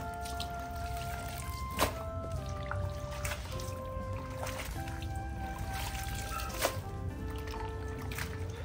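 Water poured off a big batch of salted cabbage for kimchi, roughly ten kilos, a steady splashing trickle with a couple of sharper splashes, close by and without talk.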